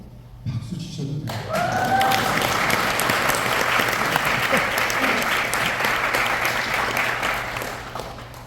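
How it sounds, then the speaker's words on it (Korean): An audience at a book launch celebration breaks into applause after a short quiet moment, swelling into steady, dense clapping from many hands that holds for several seconds, with faint voices underneath. "박수 치셔도 돼요"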